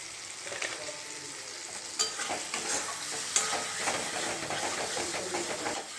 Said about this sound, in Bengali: এবারে মশলাটা আমি খুব ভালো মতন কষিয়ে নেব।